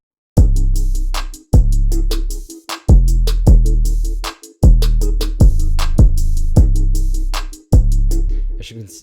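A programmed beat with deep, booming kick hits in a steady bouncy pattern, crisp ticking hi-hat accents riding on top, loud and close.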